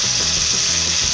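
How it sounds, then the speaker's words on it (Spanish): Bacon sizzles with lima beans in a pan for a Peruvian pallares dish, a steady close frying hiss with low crackling pops running throughout, no voices. "Entonces vamos a dejar ahí que se frían un momento."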